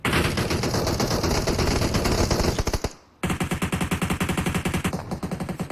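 Rapid automatic gunfire in a competitive battle royale video game scrim, dense continuous bursts that cut out briefly midway and then resume as fast repeated shots, loud and close with no talk.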